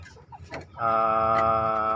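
A Bangkok-breed fighting rooster crows once, loud and close. The sustained, strongly pitched call follows a few shorter clucking sounds and carries on steadily to the end with no talking.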